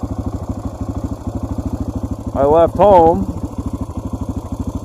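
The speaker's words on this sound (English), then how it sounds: "It's kind of nice to just sit here with the engine idling and warming me up a little bit" Motorcycle engine idling close by with a steady, rapid low thump that runs throughout, briefly overlaid by someone speaking.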